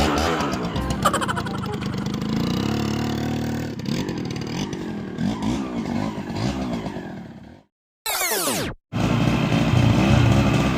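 A motorcycle engine revs up for a race, loud and close with rough, fluctuating throttle bursts and clattering, broken by a brief silence before a sharp high-pitched rev returns.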